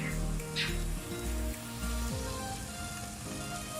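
Pickled galdirik greens sautéing in a pan with onion, tomato paste and garlic give a steady close sizzle and crackle, with music playing over the cooking.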